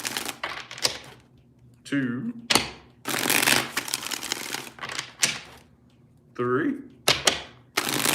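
Tarot cards are riffled and shuffled in several quick, crisp bursts up close, with a voice counting between the shuffles.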